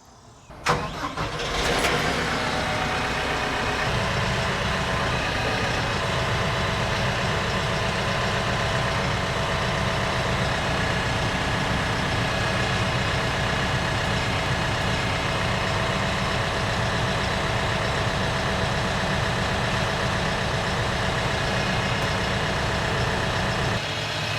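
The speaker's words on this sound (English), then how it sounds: "the best way to do that is to just go ahead and lift this up with the tractor" A tractor engine runs at a steady, loud idle while the tractor lifts a heavy-duty economy flail mower, with a brief start-up burst at the beginning and an unbroken mechanical drone throughout.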